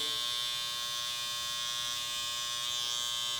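Electric hair trimmer buzzes loudly and steadily up close while shaping a full beard, a continuous even drone with no pauses.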